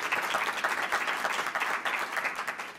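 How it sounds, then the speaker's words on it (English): Audience applause at a scholarship event, a dense wash of many hands clapping at steady volume, tapering slightly at the end. "You all clap it up for her, please."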